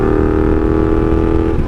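Steady, loud engine drone from a 1982 Honda Magna V45 VF750C motorcycle while riding, a continuous rumble with a constant pitch and no voices.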